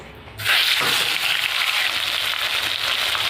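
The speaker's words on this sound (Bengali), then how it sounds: "এবার মাছগুলো ভেজে নেব" Fish coated in turmeric frying in hot oil in a kadai: after a brief quiet start, a loud, steady sizzle and crackle rises and holds for the rest of the clip.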